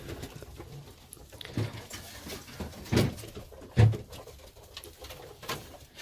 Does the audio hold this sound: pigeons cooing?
yes